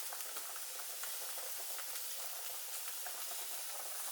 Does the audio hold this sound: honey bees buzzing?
no